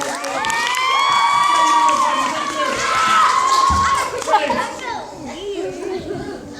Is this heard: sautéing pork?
no